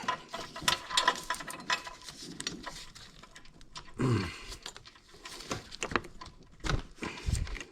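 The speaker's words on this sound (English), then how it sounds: "So I'm gonna use a wrench." Wrench working a bolt loose during a turbo install on a 2018+ Honda Accord Type R, a series of metallic clicks, scrapes and clunks in uneven bursts, close up with some handling noise.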